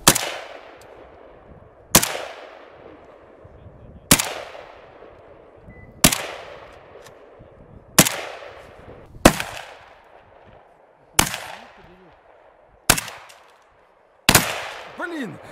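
Sharp, loud gunshots ring out one at a time about every two seconds, each echoing and decaying before the next, with faint voices between.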